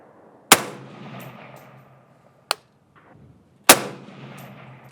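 Three rifle shots from a Maxim MD15 chambered in 6mm ARC at an outdoor range, two loud sharp cracks with a fainter one between, each ringing out briefly in open air.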